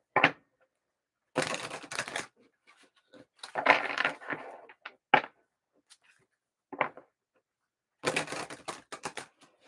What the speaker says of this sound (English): Let me get a couple tarot cards for you.